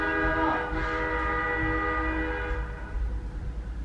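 A passing train sounds its horn in a loud sustained blast over the deep rumble of rolling railcars, continuing steadily with no talk.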